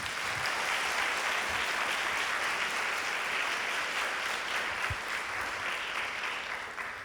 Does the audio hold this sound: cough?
no